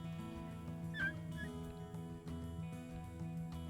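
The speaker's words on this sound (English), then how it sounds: "Sorry, my dogs are barking in the background." Dogs whimpering and yipping faintly in the background beneath steady game music.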